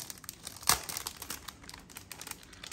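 A Digimon card game foil booster pack is torn open up close: crinkling wrapper with one sharp rip, then a run of light rustles and crackles, no talking.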